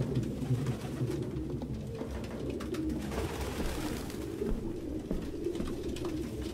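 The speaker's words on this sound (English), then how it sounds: "No human could live with all these fucking pigeons." Pigeons coo repeatedly in low, throaty, overlapping calls, close and fairly loud, in a cluttered apartment in the video game Detroit: Become Human.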